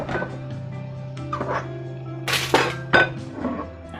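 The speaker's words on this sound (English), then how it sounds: "I'm just going to put that on the skillet there." Stuffed hearts set onto a skillet, a few clinks and clatters of metal and crockery with a brief sizzling burst, close by, over a low steady hum.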